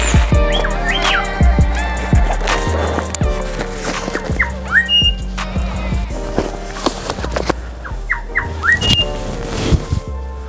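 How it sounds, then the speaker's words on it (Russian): Birds on an uninhabited island chirp and whistle in short, bright, repeated phrases throughout, mixed with clattering thumps and low rumble from an electric bike ride. No one talks. "Птички поют."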